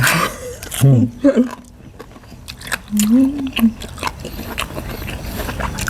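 Big mouthfuls of Isan-style papaya salad (tam sua) with soft, chewy khanom jeen rice noodles are bitten and chewed up close, wet crunching and squelching coming in bursts, with no talk over it.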